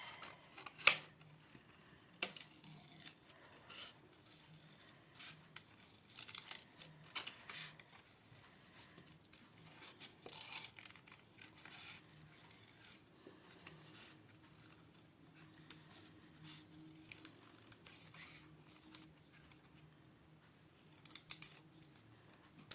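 Scissors snip through gold-coloured paper in a series of soft, close crisp cuts with pauses between them, quiet and without talk, for a winter-themed craft card.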